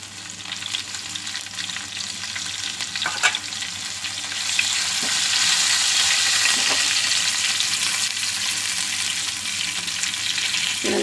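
Green chillies hitting hot oil in a pan for an okra stir-fry, a loud steady sizzle that swells and stays strong, with a few stirring knocks and no voices.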